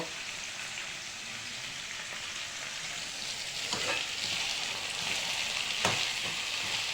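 Onions and local chicken fry in a pan with a steady, close, continuous sizzle that stays even throughout, with faint stirring scrapes and no voices.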